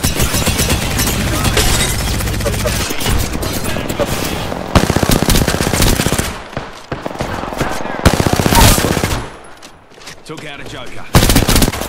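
Rapid automatic gunfire from Apex Legends weapons during a bronze-rank match, loud and near in sustained bursts broken by short pauses, with a player talking over the shooting.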